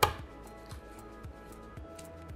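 A knife cutting part of the wing off a whole duck on a board, heard as one sharp chop followed by a few soft, quiet cutting and tapping sounds close by.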